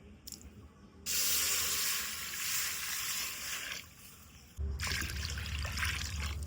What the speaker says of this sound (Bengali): খুদের ভাত রান্না করার জন্য কড়াইতে দিয়ে দেবো জল।